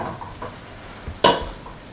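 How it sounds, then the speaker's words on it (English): Shrimp heads fry in a pan with a soft continuous sizzle, stirred now and then with light scrapes and a sharper clink of the utensil against the pan near the end. "Now the head of the shrimps is roasted."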